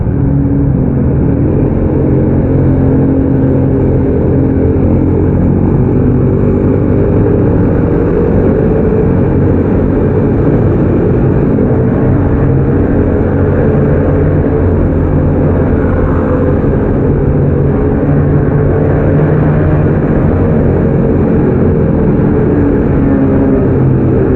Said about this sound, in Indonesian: berisik banget ya pakai knalpot blong